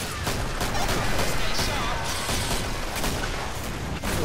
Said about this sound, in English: What on earth is that gun? It sounds delightful.